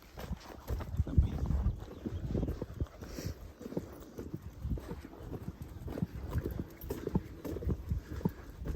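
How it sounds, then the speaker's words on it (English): Several horses walk past on a Somerset country lane in April, hooves clip-clopping in a steady, uneven patter at close range, with some wind buffeting throughout. "then we'll let the horses come past."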